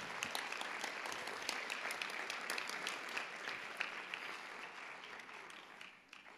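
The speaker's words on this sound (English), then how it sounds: "give yourselves a round of applause for inspiring us all" A full room claps at a Board of Education meeting in a long, sustained round of applause with dense, even crackle from many hands, fading slightly at the very end.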